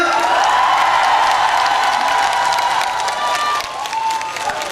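Applause from an outdoor audience at a rose festival concert in Seoul's Jungnang district: sustained, loud, dense clapping with scattered whoops and crowd noise, holding steady before tapering slightly near the end.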